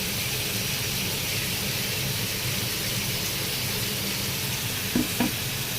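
Spice paste sizzles steadily in a hot frying pan, a loud and continuous hiss close by, with a couple of brief clinks near the end and no talk.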